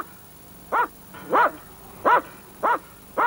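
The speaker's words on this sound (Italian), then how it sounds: "Ancora più minaccioso e agguerrito è il cane tenuto prigioniero in una gabbia" An aggressive guard dog held in a cage barks five times in a slow, regular series, each bark short, loud and close, with a low background rumble between them and no talk.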